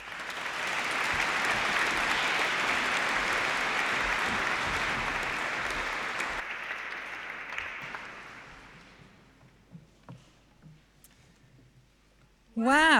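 A graduation ceremony audience applauds with some cheering, a broad loud wash of clapping that holds steady for several seconds, then thins and fades into scattered claps before a voice cuts in at the end.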